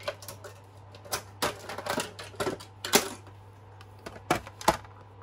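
Paper strip from a 12-inch craft sheet being cut with a trimmer, a series of sharp slicing and clicking bursts of varying loudness, close up with no talking.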